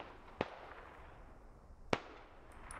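Two sharp gunshots in the tactical shooter video game SquadOps, spaced about a second and a half apart over a steady background hiss, fairly distant and moderately loud, with no talk.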